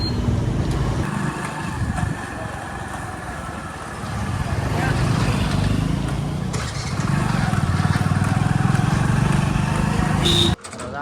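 A motorbike rides along with a steady engine drone that rises and falls as it moves, loud and close, cutting off abruptly near the end; a voice speaks over it.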